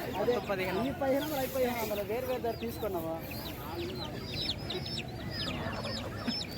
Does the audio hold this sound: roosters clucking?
yes